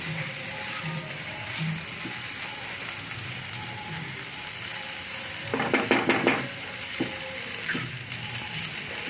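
Eggplant and neem leaves frying in a pan over a gas flame, a soft continuous sizzle with brief louder crackling bursts partway through, heard close up and without talk.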